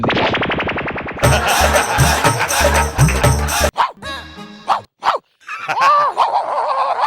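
A person mimics a dog's barking in quick, loud bursts, alongside other vocal imitations and brief pauses.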